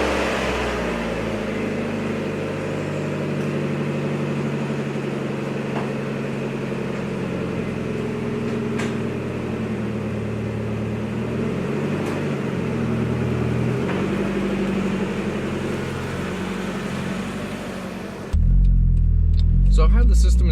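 A car fitted with a RoadsterSport 4 exhaust idles and drives with a steady low engine rumble and deep exhaust drone throughout, ending in a louder burst of wind or road noise; no clear talking.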